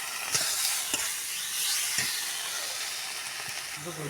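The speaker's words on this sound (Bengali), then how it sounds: "আদা রসুনের পেস্ট 2 চামচে দিয়ে দিলাম। দিয়ে এটাকে আমি নাড়বো।" Cumin-coriander powder and ginger-garlic paste frying in a pan, a steady soft sizzle and hiss with a few scattered scrapes and taps from a stirring utensil, heard fairly quietly and without talk.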